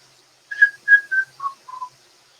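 A person whistles a short, clear phrase of five notes stepping downward in pitch, close and alone against near silence.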